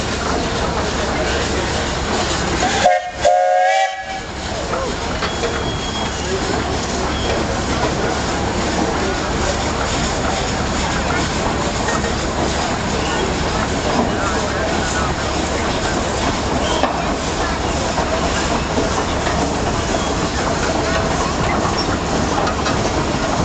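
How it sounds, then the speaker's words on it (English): An advanced Brumley steam engine runs at a threshing bee in Crosby, North Dakota, giving a continuous loud rumble with rhythmic clattering and a brief sharp interruption early on, while voices carry over the machinery. "This is an advanced Brumley steam engine."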